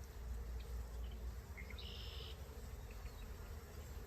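Honeybees streaming in and out of a hive entrance, busy and carrying pollen, make a steady, close droning buzz that holds evenly throughout with no talking.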